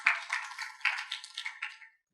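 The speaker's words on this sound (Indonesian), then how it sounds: "kita beri tepuk tangan buat Tuhan Yesus" Brief applause from a congregation during a church teaching session, a light scatter of clapping with a few sharper bursts that fades out after about two seconds.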